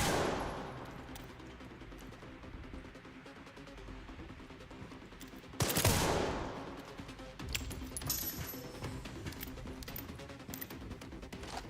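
Gunfire in the video game Resident Evil Requiem comes from a slow-firing gun as a few sharp shots. One loud blast stands out mid-clip over a busy, noisy game soundscape, and no one speaks.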